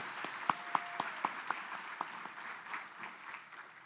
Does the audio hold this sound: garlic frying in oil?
no